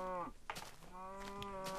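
Minecraft cows moo in-game, two drawn-out lowing calls separated by soft thumps, moderately quiet with no talk over them.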